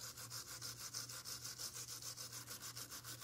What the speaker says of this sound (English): for a satin finish, you can use the steel wire brush and just burnish the surface